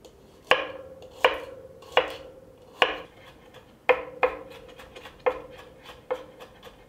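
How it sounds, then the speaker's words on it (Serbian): Two garlic cloves being finely chopped with a knife on a board, about ten crisp, distinct chops with short gaps between them, close and fairly loud, no voices. "iseckaću 2 čena belog luka sitno"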